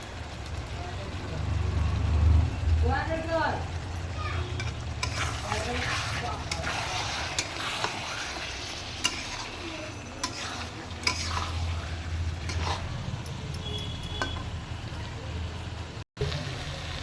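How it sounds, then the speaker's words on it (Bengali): Mutton and spices frying and being stirred in oil for mutton bhapa, a steady sizzle with scraping stirs throughout and brief clinks, while a voice speaks at times over the cooking. "আমার মশলাটার সঙ্গে মাংসটা কষা হয়ে গেছে, তেল ছেড়ে দিয়েছে"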